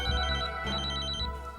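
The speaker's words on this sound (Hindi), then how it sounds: "आ गया फोन।" Telephone ringing indoors, a steady electronic trilling bell with two ring bursts separated by a short gap, loud and close over a low hum.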